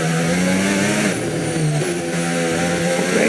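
An F1 race car engine in the F1 25 video game screams at high revs, its pitch rising and dipping steadily through gear changes for several seconds, loud and close.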